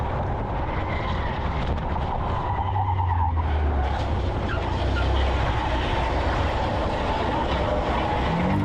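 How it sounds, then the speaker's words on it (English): Loud, continuous roar of a car skidding and spinning out, with tire and engine noise churning steadily from start to finish. "Not only does he completely lose control and spin out, but he takes 2 innocent cars with him."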